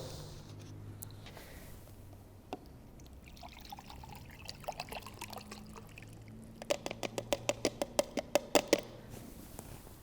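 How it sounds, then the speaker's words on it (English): Water is emptied out of a plastic bottle indoors: a soft pour and trickle that breaks into a quick run of glugging gurgles toward the end, close and fairly quiet, with no talking. "I have a bottle of water here, and I'm going to empty it out"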